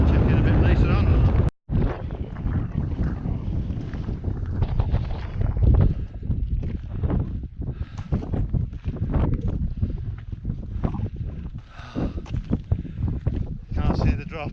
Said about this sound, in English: The wind's getting up now as well.